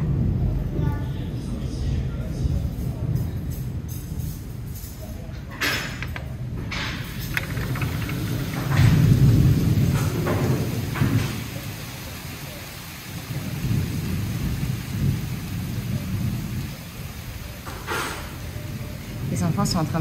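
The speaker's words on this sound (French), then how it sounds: "C'est de l'orage, hein, quand même." A thunderstorm with steady rain pattering on surfaces and deep rolling thunder rumbling through, close and loud, with a few sharper cracks and people talking faintly at times.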